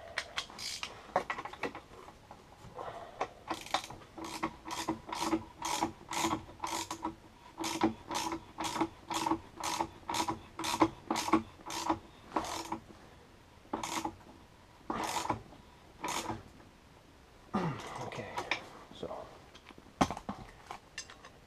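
A ratchet wrench snugs down the clutch on a Polaris Scrambler 850/1000 ATV during a clutch kit install, giving a long run of steady, close ratcheting clicks in even bursts, then a few slower strokes.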